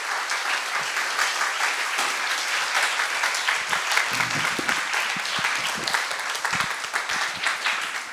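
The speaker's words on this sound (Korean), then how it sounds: "자, 박수." An audience at a school gathering for middle-school students breaks into steady, sustained applause, a dense even wash of clapping that holds throughout without pause.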